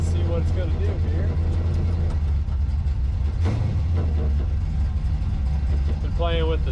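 Chevrolet S10 pickup with a swapped-in Ford 8.8 rear end, driving with a steady low engine rumble and road drone throughout, while a person talks over it.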